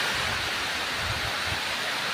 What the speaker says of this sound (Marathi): एक नंबर पाऊस झाला आहे चालू आहे अजून पाऊस